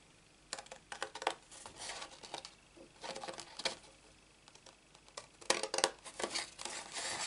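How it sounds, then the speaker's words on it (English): Large scissors cut down a line on a card base for a handmade greeting card, with several short crisp snipping and rustling bursts in bunched groups, close and fairly quiet. "Then I got my large scissors and cut down that line."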